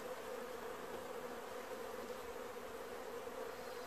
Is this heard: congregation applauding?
no